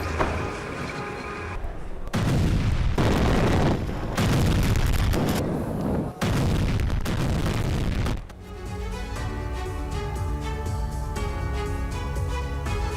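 Heavy, loud booming blasts from guided bombs and artillery land one after another in Sumy, then give way to a steadier, ringing rumble.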